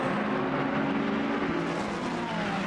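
Ferrari 488 GT3 race car in Assetto Corsa Competizione, powering through Eau Rouge and Raidillon at Spa: a continuous high engine drone under load with dense tyre and road noise, close and steady.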